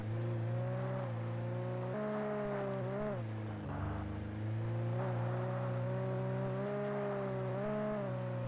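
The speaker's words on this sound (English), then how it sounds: "I think I want to just take the car." A car driven in the video game Alan Wake Remastered gives off a steady, droning engine hum that dips and rises in pitch as it moves, loud and continuous with no talking.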